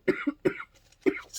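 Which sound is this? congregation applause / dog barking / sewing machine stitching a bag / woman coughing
woman coughing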